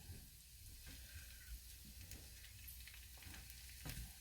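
Broccoli sizzling in a hot pan with butter and garlic, a steady frying hiss with occasional crackles, close and alone.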